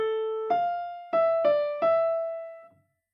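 Opening notes of a melody beginning on A, played as five clean plucked or struck tones in an uneven rhythm, clear and close with quiet decay between notes and silence at the end.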